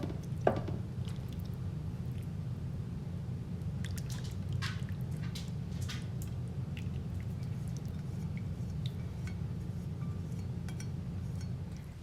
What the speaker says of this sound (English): Now we're pouring the wing sauce over the chicken and cheese.